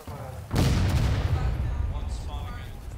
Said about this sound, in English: They're shooting right down that fence